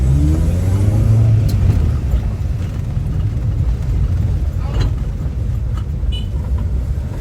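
A 22-year-old Hyundai car engine rumbles steadily throughout, with a low revving hum at the start, heard from inside or nearby while driving on Nosy Be Island, Madagascar.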